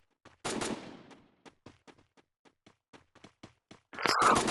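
Bursts of Free Fire game gunfire: a long rattling volley, then a string of sharp single shots at uneven intervals, ending in another loud burst.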